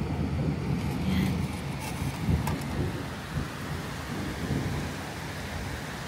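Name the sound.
heavy rain with thunder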